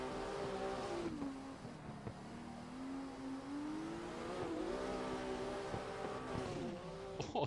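A 4-cylinder car engine in a racing video game revs and holds a steady drone, with pitch rising and falling through gear changes, loud and continuous.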